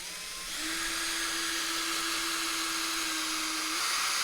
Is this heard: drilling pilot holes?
yes